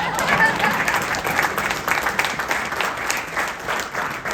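Candidate forum crowd clapping in a full round of applause, dense and fairly loud, with slight swells and a few voices murmuring through the clapping.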